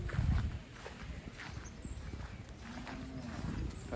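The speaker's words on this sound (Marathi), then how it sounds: "कसे कसे बैल आले तिकडे, एक नंबर." Bullocks gathered at a village ploughing contest, a deep low moo near the start amid a busy outdoor crowd murmur, with a second lower drawn-out call later, fairly faint overall.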